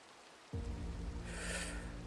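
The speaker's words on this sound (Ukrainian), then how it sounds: "О, до речі, дощик." Video game rain switches on abruptly after half a second of near silence, becoming a steady, soft hiss of falling drops with a low hum beneath, quiet and continuous.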